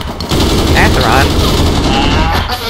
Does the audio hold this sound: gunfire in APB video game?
yes